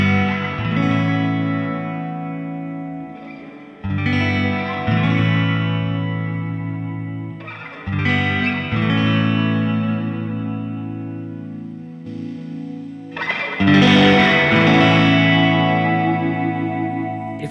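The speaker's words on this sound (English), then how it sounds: "It's the simplest reverb that I like that I can find." Fender Stratocaster electric guitar played through a simple pedalboard with a DSP reverb pedal, sustained chords ringing with a smooth reverb tail, changing every few seconds, with a brighter, louder chord near the end and no talking.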